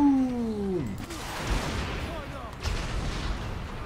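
Explosions in the video game Dead Rising 3 rumble and boom through a noisy battle scene, a whistling descending tone at the start followed by layered blasts and debris, with gameplay noise throughout.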